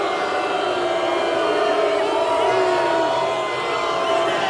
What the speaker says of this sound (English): Let the crowd tell you how they feel about it.